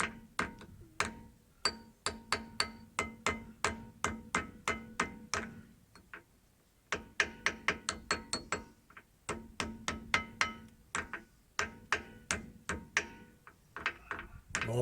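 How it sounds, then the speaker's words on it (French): A small hammer strikes a rear brake part of a Citroën DS3 in rapid, regular bursts of sharp metallic clinks, close by, with a short pause midway before the tapping resumes. "Marteau plus petit, ça marche mieux."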